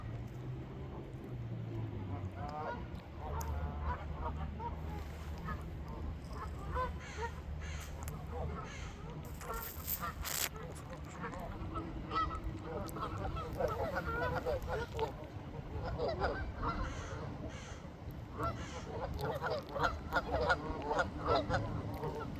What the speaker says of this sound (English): There's a lot of ducks here.